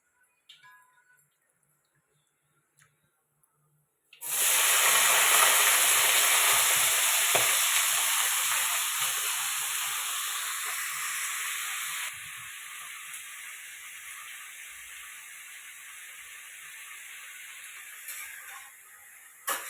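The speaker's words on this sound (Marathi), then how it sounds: "बघा आता याच्यामध्ये मी बटाटे आणि हे शेंगा टाकणार आहे" Potatoes and Indian flat bean pods (val shenga) hit hot oil with a sudden loud sizzle after a few quiet seconds. A dense, close hiss and crackle then carries on, easing slightly over time with faint stirring scrapes.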